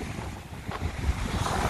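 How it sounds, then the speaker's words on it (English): Strong wind of about 20 mph buffets outdoors at San Luis Reservoir in a low, rumbling roar with gusty swells, close and fairly loud, no voices. "pretty windy today man maybe 20 mile per hour wind"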